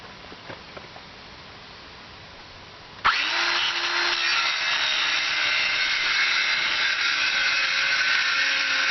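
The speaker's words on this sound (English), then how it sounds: "This stuff is heavy, and this saw just cuts through like butter." A power saw bites into heavy 3/4-inch particle board after three seconds of quiet, then a loud, steady cutting whine runs to the end with no talk.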